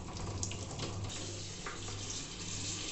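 Water drained off cooked cauliflower, a faint continuous pouring and splashing rush with a low steady hum beneath, no voices.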